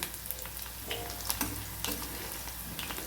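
Onion sautéing in a pan for a bitter gourd dish, a steady close sizzle with scattered spatula scrapes and clicks, no voices.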